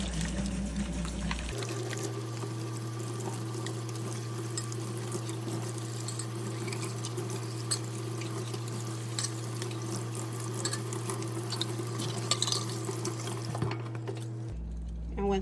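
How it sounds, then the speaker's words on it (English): Water runs steadily into a sink as canning jars are drained and rinsed, a continuous soft pour over a low pump-like hum, with light clinks and splashes and the flow cutting off near the end. "now let the water out. I'm gonna start rinsing these."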